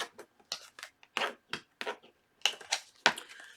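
Playing cards being shuffled by hand until one falls out, making a string of quiet, crisp flicks and snaps at an irregular rhythm, close by, with no talking.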